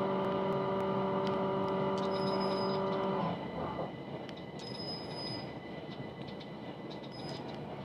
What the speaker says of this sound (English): This train is the southern service to London Bridge.